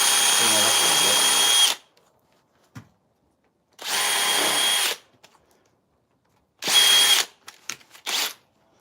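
A coarse burr bit in a power tool grinds out cuts in a wood carving, three separate high buzzing bursts, each one to two seconds long, with short pauses and small taps between them.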